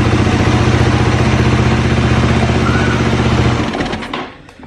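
A motorcycle with a faulty rectifier that keeps stalling while riding idles steadily and loudly up close, then is switched off, its engine note sputtering and fading to quiet.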